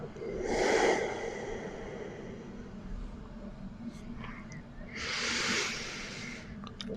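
Two slow, deep breaths drawn in and released close to the microphone during a calm ASMR hypnosis session. They come as soft, breathy swells, one near the start and one later, with quiet stillness between.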